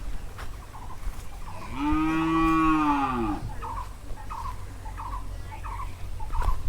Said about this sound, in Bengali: এই যে আমার গরু